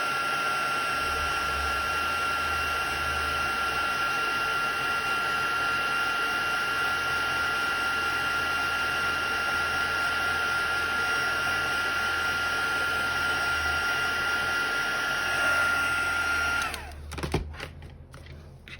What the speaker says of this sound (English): just another quick blast of the heat gun to dry those before I add in the white